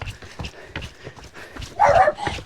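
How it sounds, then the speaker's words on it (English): Several dogs bark around a runner out on a long training run, with repeated barks and yips coming at close to middling range over steady footsteps and ambient noise. "The dogs are everywhere."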